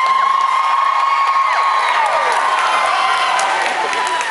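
A large crowd cheers and whoops loudly and steadily, with applause and high shouts mixed throughout, at a concert at TCU Place in Saskatoon.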